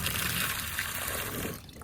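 Steady tap water runs into a sink while a Pacvac Glide 300 vacuum filter cap is rinsed, a continuous close hiss that drops away near the end.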